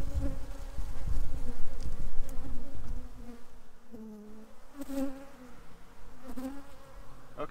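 Honey bees hum continuously around a tree trap-out, a close, dense buzz that wavers in pitch as individual insects fly past near the listener, with no voices.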